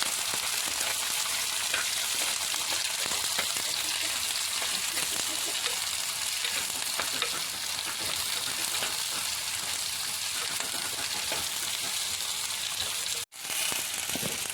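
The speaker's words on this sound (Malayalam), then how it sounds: "പിന്നെ രണ്ട് പച്ചമുളക് നമുക്ക് ഇളക്കി കൊടുക്കാം" Green chillies and curry leaves fry and get stirred in a pan for a Kerala onion theeyal, a dense steady sizzle with scraping stirs, close and continuous, broken by one brief pause near the end.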